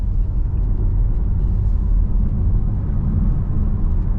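A 2024 Cupra Born electric car on the road, giving a steady low rumble of tyre and road noise inside the cabin with no engine tone, constant and fairly loud throughout.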